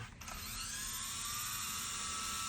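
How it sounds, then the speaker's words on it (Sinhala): The small electric rotor of an indoor RC helicopter whines at a steady high pitch close by, a thin buzzing hum that holds without pause. "මේක ඉන්ඩෝ RC හෙලිකොප්ටර් එකක්."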